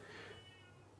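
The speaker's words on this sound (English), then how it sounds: "That's my cat." A house cat gives a single soft, drawn-out meow, faint and close, against a quiet room hum.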